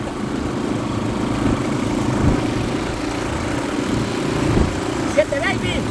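Motorcycle engine running steadily during a road trip in a caravan, a continuous low droning rumble throughout with people talking over it.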